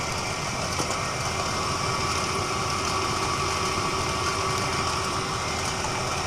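An electric motor drives a generator under full load at about 2867 rpm, giving a steady, loud, unbroken whine and hum with a droning mechanical tone and no voices.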